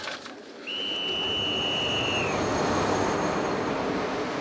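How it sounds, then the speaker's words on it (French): A train pulls away from a station platform at Paris Gare du Nord with a rising rumble and a long, high wheel squeal, close and continuous, with no talking. "notre train va partir"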